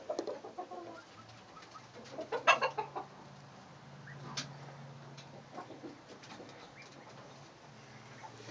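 Roosters and hens on a small farm cluck and call in a steady backyard chorus, with a louder crow-like burst near the middle and softer scattered clucks throughout, moderately near.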